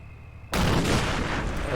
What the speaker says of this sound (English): As you can hear, their mortar tube.